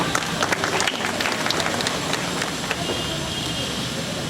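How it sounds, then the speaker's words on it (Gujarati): Audience applause at an indoor youth group health talk: a steady, moderately loud patter of many hands clapping that stays fairly even throughout before tapering slightly. "તાળી કદાચ એટલી બધી જોરદાર નહીં હતી"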